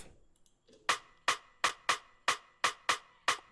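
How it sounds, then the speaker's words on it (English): Afrobeat snare drum soloed in a programmed beat, bright crisp hits in a syncopated pattern with short ringing decay, preceded by faint soft ticks. "Next we have the snare, which sounds like this."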